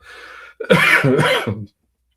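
A single harsh cough with throat clearing, loud and close on a live online whiskey tasting stream, about one second long and heard alone before silence.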